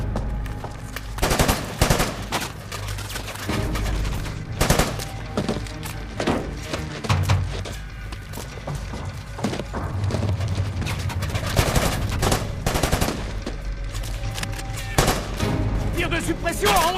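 Dense suppressive machine-gun fire from a desert war film fills the whole stretch, rapid overlapping bursts and individual shots with heavy thuds, loud and continuous, with shouted voices mixed in beneath the gunfire.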